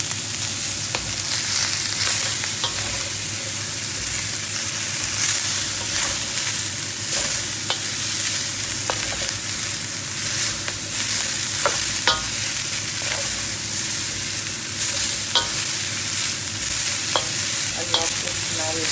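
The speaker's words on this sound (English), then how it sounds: "Increase the pan here as well. Quick stir fry." Cabbage is stir-fried in a hot pan, giving a continuous sizzle with irregular sharp clicks and scrapes from stirring throughout.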